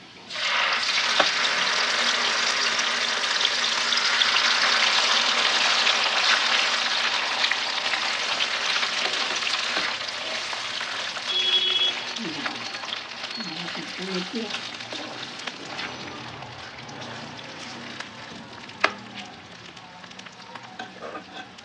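Saag greens hit a hot ginger-garlic tadka with a loud, bright sizzle that gradually settles into softer frying and stirring, while someone talks over it.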